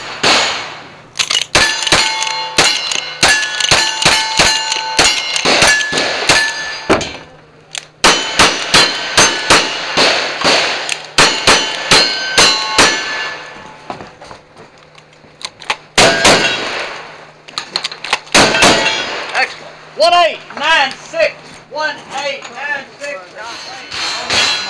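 Rapid gunshots ring off steel targets at a cowboy action shooting state championship in Arkansas, with loud metallic clangs in quick bursts, pauses between strings and a spoken voice near the end.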